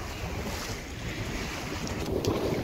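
Wind gusts buffet the microphone on a sailboat under way off Burgh Island, with waves washing against the hull in a steady loud rush.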